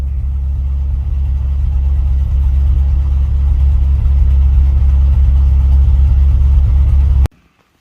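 A John Deere 4020 tractor engine runs loud and close while loading bales, a steady low diesel drone throughout that cuts off abruptly near the end.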